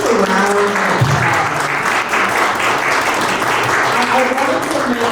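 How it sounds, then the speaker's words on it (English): An audience at a housing development history speaker series applauds the panelists with loud, sustained clapping close by, while a voice speaks briefly at the start and again near the end. "let's give our panelists just a round of applause"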